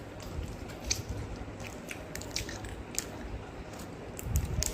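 Someone bites into a crispy burger and chews it up close, with soft crunches and squishy mouth sounds repeating through a quiet background.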